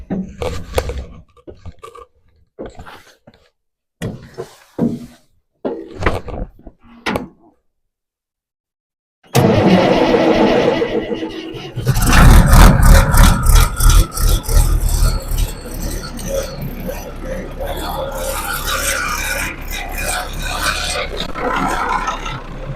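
An Allis-Chalmers farm tractor engine cranks and catches, then settles into a loud, steady rattling idle after several seconds of scraping and clunking.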